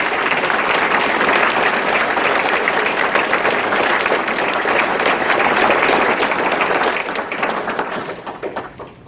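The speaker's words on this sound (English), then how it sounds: "please give Dr. Moore a round of applause" Sustained applause from an audience at a police awards ceremony, dense and loud, continuing steadily before tapering off toward the end.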